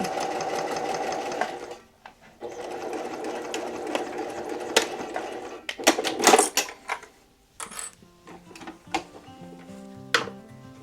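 A sewing machine stitches a fabric bowl cover in two steady runs of rapid needle chatter, close and clear. Bursts of clicks and clattering handling noises follow as the machine stops.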